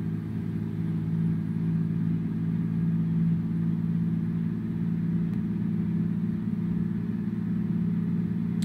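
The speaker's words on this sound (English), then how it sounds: "This truck engine sounds really good." A truck engine in American Truck Simulator drones steadily while cruising, a deep, constant low rumble with no talk over it.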